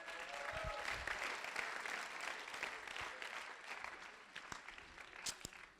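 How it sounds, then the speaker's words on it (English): Audience applauding for Simon Froley at a Sunday church gathering, a steady wash of many hands clapping that holds fairly even for several seconds before thinning out with a few scattered louder claps near the end. "Round of applause for Simon Froley"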